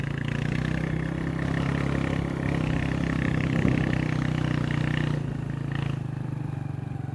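A motorcycle engine running steadily on a rough mountain shortcut, a close, continuous mid-pitched hum with slight throttle variation throughout.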